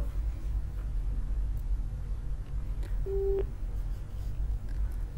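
A telephone busy tone after a caller's line disconnects: one short steady beep over a constant low hum of line noise.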